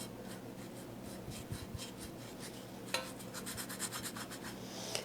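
A brush strokes bronze paint onto a plaster sculpture, close, quiet rhythmic rubbing and scratching strokes repeating at a steady pace, with one sharper tap midway.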